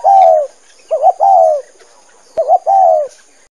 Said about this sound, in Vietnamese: chim bồ câu